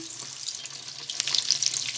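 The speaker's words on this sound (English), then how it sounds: "We're going to be deep frying the croquettes, so I've heated up some oil in our deep pot." Potato croquettes deep frying in a pot of hot oil give off a soft, steady hiss and crackle, with bubbling swelling louder partway through.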